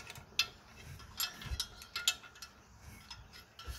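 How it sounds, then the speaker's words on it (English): Small bolt being undone on the water pump of a Mercedes W123 diesel, with faint close ratcheting ticks and light metallic clicks coming in short irregular bursts. "further undoing this little bolt."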